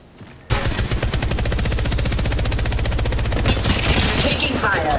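Sustained rapid automatic gunfire in the mobile shooter game Apex Legends Mobile, loud and continuous after a sudden start, a dense stream of shots with a brief voice under it.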